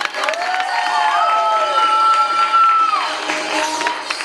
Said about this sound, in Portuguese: Palmas para minha mãezinha, por favor.